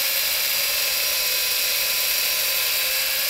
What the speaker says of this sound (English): you're marking your holes and starting them with that drill bit mounted to my piece of dowel rod